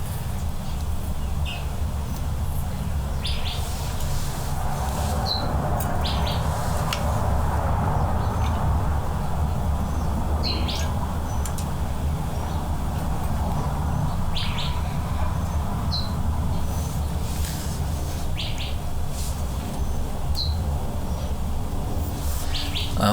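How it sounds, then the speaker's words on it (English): Birds chirp and call outdoors in brief scattered bursts, some near and some farther off, over a steady low ambient rumble with no talking. "you can hear the birds in the background"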